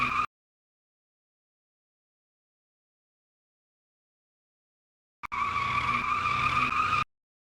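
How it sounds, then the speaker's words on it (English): A tire skid effect from the Void Racer racing game: after a long stretch of silence, a single sustained tire squeal starts abruptly and holds steady for nearly two seconds before cutting off cleanly. "And then I basically just play this skid sound"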